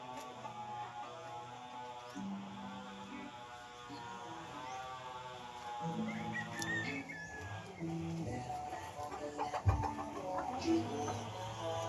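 Chickens cluck and crow at close range on a farm, a busy mix of poultry calls throughout, with people talking faintly in the background.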